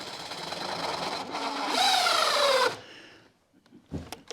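A power drill drives screws into a wooden form for a concrete coffee table, with a rising motor whine through one sustained run that stops abruptly, followed by light handling knocks.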